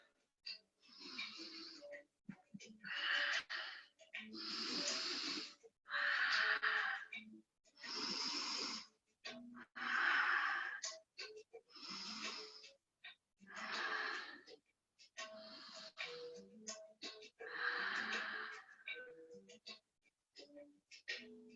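Slow, deep breaths during a yoga stretch, each inhale and exhale a drawn-out airy rush separated by short quiet pauses, close up and repeated about a dozen times, with no talking.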